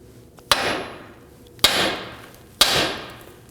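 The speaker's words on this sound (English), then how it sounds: "we're going to go ahead and strike the knuckle right here, and that should release this tie rod end" Three sharp metallic hammer blows on the steering knuckle of a 2005-2009 Subaru Legacy to free the tie rod end, each about a second apart with a ringing decay, close and loud with no talk.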